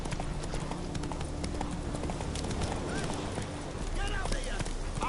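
A horse gallops in The Witcher 3: Wild Hunt with rapid, continuous hoofbeats close up, while characters speak over it near the end.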